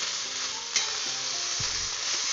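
Ingredients sizzle in a pan with very little oil as a spoon stirs them, making a constant close frying hiss with occasional scraping knocks against the pan; the dish is taro greens cooked with hilsa fish head.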